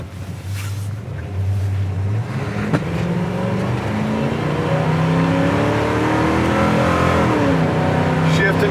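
A 1972 Oldsmobile Cutlass accelerating hard from inside the cabin, engine rising in pitch and swelling in loudness through the gears, with people talking over the steady roar.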